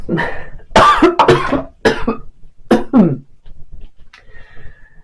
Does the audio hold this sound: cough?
yes